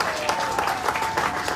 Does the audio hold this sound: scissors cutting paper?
no